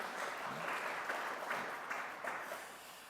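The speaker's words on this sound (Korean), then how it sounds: "제자대학 11기생들 뜨거운 박수를 보냅니다" A church congregation applauds graduating members of a discipleship training class during a Sunday service, a steady, moderately distant patter of many hands clapping without letup.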